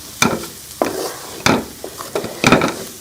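Onion-tomato masala with fresh coriander being stirred in a pan for samosa stuffing, with a spoon scraping in several distinct strokes over a soft, steady sizzle, close and clear, with no talking.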